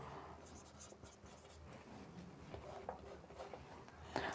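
A pen writes a note on paper, making faint scratchy strokes in short bursts that are close and quiet.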